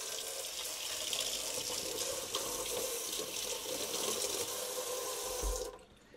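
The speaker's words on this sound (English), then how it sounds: "Use your keg cleaning wands and attach them to the adapters, and then just run water through it." Steady rushing of water flowing through keg cleaning tubing for about five seconds, then it cuts off abruptly.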